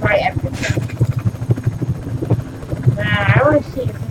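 A video game helicopter's rotor thumps in a steady rhythm at close range, with brief electronic whoops and tones layered over it.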